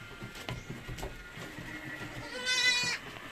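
Anglo-Nubian goats on a farm give several bleats at moderate distance, with one longer, louder wavering bleat near the end over light background noise.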